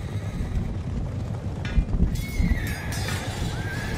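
Frightened horses in a battle scene let out several high, wavering neighs and whinnies over a rough, wind-like roar, with a few dull thuds mixed in.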